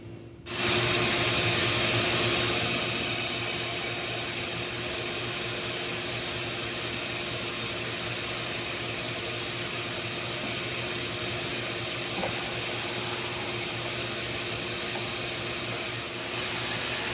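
A shop vac starts up with a sharp surge, then drones steadily and loudly for over fifteen seconds with a constant whine and no speech.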